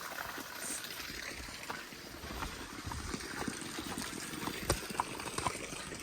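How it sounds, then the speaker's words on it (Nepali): Water trickles down outdoors in a Nepali village, a continuous close splashing and dribbling with small irregular drips and bursts. "टक्क झर्दैछ यता पानी"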